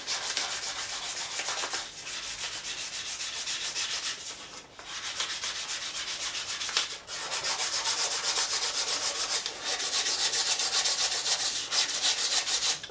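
Abrasive paper rubs steadily along the fret ends of an ESP Ltd M-300FM guitar after a fret level, a continuous close sanding hiss with a few short pauses between strokes.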